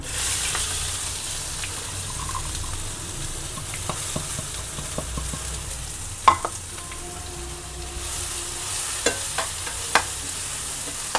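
Onions and cumin seeds fry in about three spoons of hot oil for a home-style gravy, with a steady close sizzle broken by occasional sharp spatula clicks and stirring scrapes and no voices.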